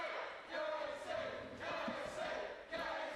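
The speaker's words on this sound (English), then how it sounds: "Crowd getting behind Casey." Crowd at an Aftershock Pro Wrestling event cheers and chants in a sustained roar of voices, swelling in waves across the arena, fairly distant and steady.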